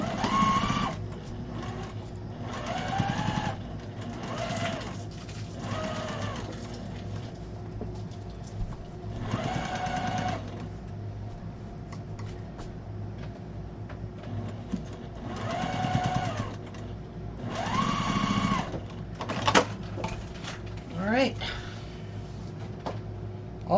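A sewing machine stitches thick quilt blocks for a pillow or wall hanging in several whirring bursts of a few seconds each, separated by quieter pauses, close and moderately loud.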